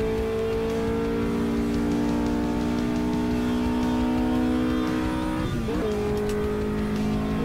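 A Renault 8 Gordini engine revving hard and holding a high, steady whine close by, with a brief rough stumble near the end before it picks back up.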